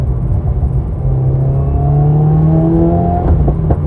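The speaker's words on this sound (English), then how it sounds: "This car loves to pop. Even with the stock exhaust system, this car was just popping." A 2021 Subaru WRX with the stock exhaust, heard up close as a steady engine rumble that shifts in pitch through a downshift, ending in a few sharp exhaust pops.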